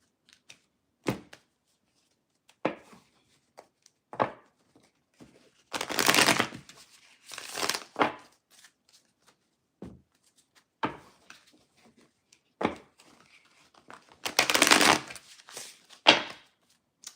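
Tarot cards are shuffled in quick riffling bursts, separated by soft taps and quiet pauses, close up and fairly faint.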